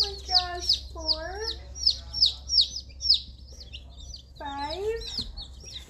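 Dozens of chicks peep rapidly and continuously close by, shrill repeated chirps, while soft, drawn-out cooing voices rise over them.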